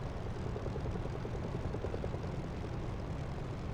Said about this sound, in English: I can just hear a chopper in the background here.